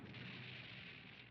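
A deep, sustained roar of an explosion in a Kamen Rider TV show rumbles throughout, broadband and steady without a sharp onset, like a blast still booming and crackling.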